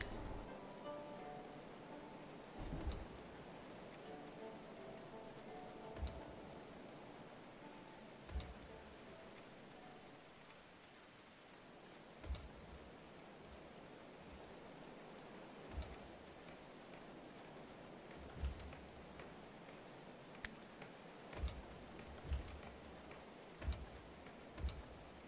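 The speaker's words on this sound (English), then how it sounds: "Yeah, all this stuff's just out in the rain." Steady rain falls in the medieval colony-building game Going Medieval, a faint soft hiss broken by scattered quiet ticks and drops.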